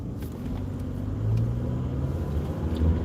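A car is driving along a road with a steady low engine rumble and road noise throughout. It swells slightly partway through, and no one speaks.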